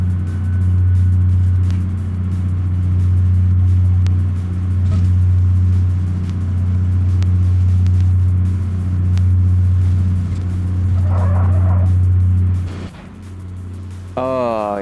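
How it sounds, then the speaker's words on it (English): A car's left front wheel catches and rubs on its bumper in the BeamNG driving game, making a steady loud droning rumble that runs for several seconds before cutting off abruptly. "that left front wheel is catching on the bumper, causing so much racket and everything"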